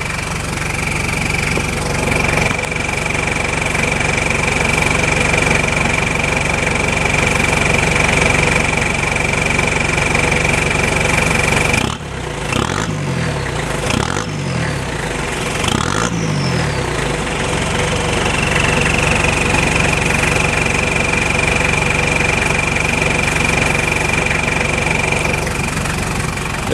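A JDM Toyota Hilux Surf SSR-X with a 3.0 diesel idles loudly and steadily up close, then revs in a few quick blips in the middle before settling back to a clattering idle.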